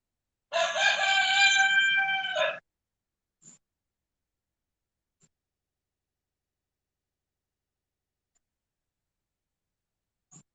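A rooster lets out one loud, clear crow lasting about two seconds, followed by near silence broken only by a few faint, brief ticks.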